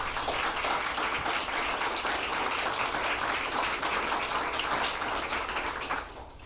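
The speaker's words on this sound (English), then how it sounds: "give yourselves a round of applause for being here" Sustained applause from a luncheon audience at a leadership event, dense continuous clapping close and loud for about six seconds before tapering off.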